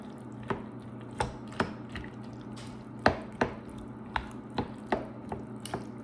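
Thick custard being stirred into cooked macaroni noodles in a pan, soft wet squelches and spoon taps in an irregular rhythm, close and fairly quiet.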